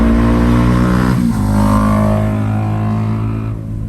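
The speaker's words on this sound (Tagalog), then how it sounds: "Ingay naman ang motor dito." A loud motorcycle engine idles and revs nearby on a Philippine roadside, a heavy harmonic drone that rises and falls in pitch and stays continuous throughout.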